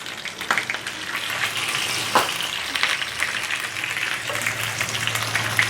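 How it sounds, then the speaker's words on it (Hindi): Tender beef pieces fry in a little oil, a steady close sizzle running throughout with a few faint clinks and spatters from stirring. "ये देखें इतना सॉफ्ट हो गया है कि ये एकदम फ्राई हो रहा है।"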